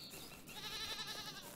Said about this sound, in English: Lots of goats.